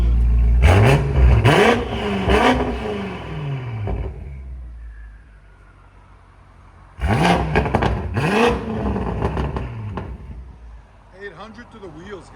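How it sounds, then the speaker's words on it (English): A modified German V8 engine revs hard in two loud bursts separated by a quieter lull, with a rising turbo whine as it spools and a fainter engine note at the end. "You can hear the turbo spooling."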